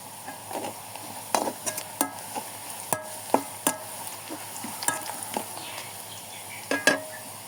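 Onions browning in a pan on a clay stove give a steady sizzle, broken by frequent clinks and scrapes of a utensil against the pan.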